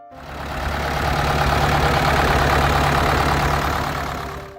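A Ford 5000 tractor engine runs at a steady idle with a loud, rough, knocking diesel rumble that rises gently and then eases off, with no talk over it.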